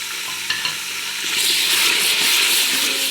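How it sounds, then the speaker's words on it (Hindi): Spices such as red chili powder and coriander powder are stirred into an onion masala, a few scraping stirs at first, then a loud, close hissing sizzle that swells and holds for the rest. "अब हम इसको अपने प्याज के मसाले में ऐड कर देंगे।"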